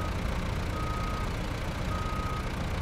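Reversing alarm of a truck in the off-road driving game Snowrunner, two steady high beeps sounding alone over a constant low engine rumble.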